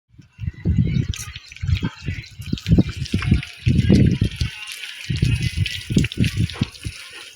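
Water from a hose pipe sprays onto the walls of a house during cleaning. Close, forceful splashing comes in uneven rushing bursts with brief gaps, loud and without talk.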